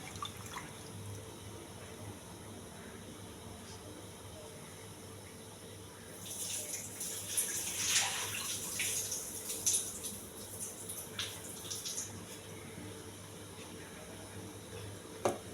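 Millets are washed and drained: soft running and splashing water swells midway into a louder pouring rush with trickles and drips, close and otherwise quiet.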